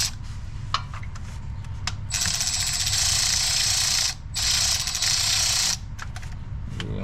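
A power tool drives oil pan bolts into a 2003 Chevy Cavalier in two bursts of high whirring, separated by a short pause, with clicks and handling noise before and after.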